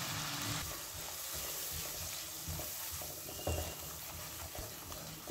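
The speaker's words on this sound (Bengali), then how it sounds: "এই মিশ্রণটিকে আমি 3 থেকে 4 মিনিটের জন্য ভালোভাবে কিন্তু কষিয়ে নেব।" Spice paste with ground nut and gram flour sautéing in a pan, a soft steady sizzle and low frying hiss heard close, with faint stirring scrapes and a brief louder clatter at the end.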